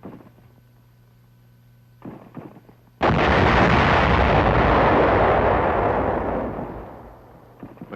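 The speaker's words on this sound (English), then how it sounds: "Resulting explosions close all but the biggest caves" A single massive TNT demolition charge explosion sealing a cave in wartime combat footage erupts after quiet rumbling, roaring loudly and then slowly decaying over several seconds.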